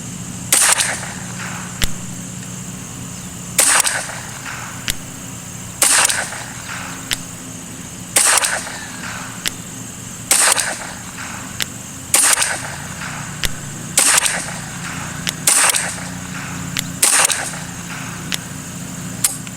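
Suppressed shots from a Ruger 10/22 rifle with an L3i barrel, about ten sharp cracks fired at a steady pace roughly every two seconds, close and loud over a constant low background hum.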